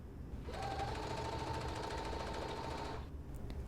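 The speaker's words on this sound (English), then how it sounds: "take it to your sewing machine, baste it in place first, and then you're going to stitch it" Sewing machine stitching a bodice seam, a rapid even motor hum with fast needle clatter running steadily for about two and a half seconds, close and clear, then stopping.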